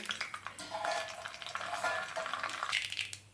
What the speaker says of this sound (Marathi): मोहरी तडतडलेली आहे।